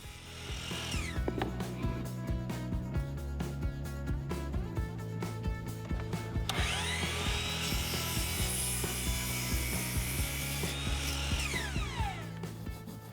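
A power saw cross-cuts a wooden piece for a push-up bar handle, a steady, close mechanical whine whose tone rises as the blade bites into the wood midway through, then drops away.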